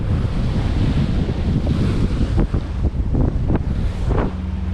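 Rough, lumpy sea with steady wind buffeting the microphone aboard a sailboat approaching New Grimsby Sound, Tresco, in the Isles of Scilly, with broadband surf and water rush throughout and a few louder splashes and slaps near the end.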